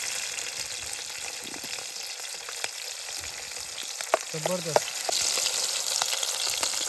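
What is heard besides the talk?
tempering frying with garlic, chili, capsicum at campsite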